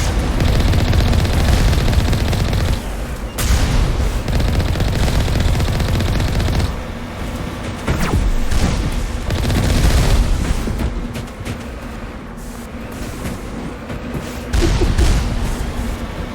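Sustained automatic gunfire in the video game Mass Effect, dense rapid bursts with loud booming impacts, nearly continuous, briefly pausing a few times before resuming.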